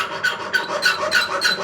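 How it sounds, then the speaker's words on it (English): A hand saw cuts through sterling silver wire held steady in a large jeweller's clamp, making a close, fine rasping stroke repeated in an even rhythm of about five strokes. "holding the wire and sawing"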